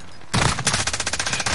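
Video game gunfire opens with a sharp loud blast, then continues as a rapid rhythmic burst of automatic shots, close and punchy, with no talking over it.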